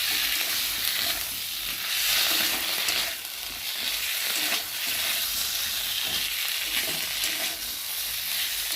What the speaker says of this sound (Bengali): দিয়ে দেবো আদা বাটা, জিরে বাটা, দিয়ে দেবো দুটো কাঁচা লঙ্কা, দিয়ে মশলাটা ভালোভাবে কষিয়ে নেব